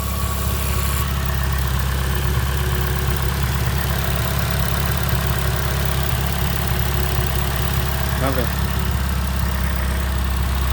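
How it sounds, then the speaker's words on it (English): A 2019-or-later Toyota Corolla 2.0 engine with an EGR delete idles steadily with a low, even rumble and hum throughout, close by, with no revving. "It's idling nice. You hear it."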